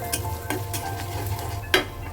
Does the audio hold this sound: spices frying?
yes